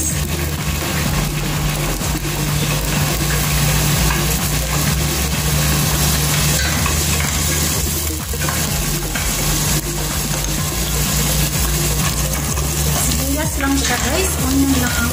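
Onion frying in a pan while it is stirred, making a steady, loud sizzle that runs the whole time with no talking, plus a low hum underneath.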